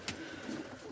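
Pigeons coo softly and close by in a short, low burble, with light background noise.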